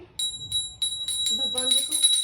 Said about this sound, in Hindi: तो सबसे पहले तो मैं घंटी बजाऊंगी